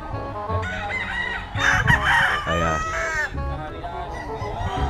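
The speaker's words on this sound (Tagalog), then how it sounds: "Bale, ito yung mga ilan sa mga manok nila." Several game farm roosters crow in overlapping, drawn-out calls, loud and close, with farmyard clucking underneath.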